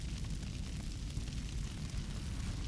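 A sustained, rumbling blast from an explosion in a combat video game, a dense roaring roar with heavy low-end, loud and steady for a few seconds without speech.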